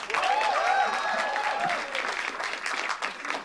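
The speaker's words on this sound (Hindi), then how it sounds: "एक बार जोरदार तालियां पूरे पैनल के लिए" Loud, full audience applause for the panel on a comedy talent show stage, a dense wash of clapping that holds steady for several seconds with a few whoops riding over it.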